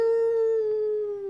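A dog howls in one long, clear, steady tone that slowly sags in pitch, close and prominent against a quiet background, with no talk over it.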